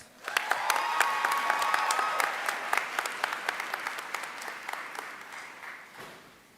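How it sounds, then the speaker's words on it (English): An audience applauds at a college commencement ceremony, steady clapping with a few sharp individual claps standing out, tapering off toward the end. "I invite another round of applause for our master's and postgraduate certificate candidates"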